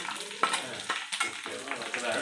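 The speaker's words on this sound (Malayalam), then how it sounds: "നല്ല വഴറ്റി കൊടുക്കാം." Ginger, garlic and green chili being sautéed in a pan for a soybean pickle, a soft sizzle broken by scraping stirs and a few clinks of the spatula, fairly quiet.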